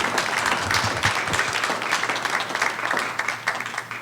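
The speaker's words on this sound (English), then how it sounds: "Thank you for the clap." Steady applause from an audience at a resident council general meeting, a dense continuous patter of many hands clapping, moderately loud with a faint murmur of voices.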